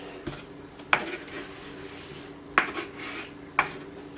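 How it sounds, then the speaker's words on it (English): A few sharp knife strikes hit a cutting board, spaced irregularly, with faint rubbing and clinking between them. "I'm going to start chopping everything up"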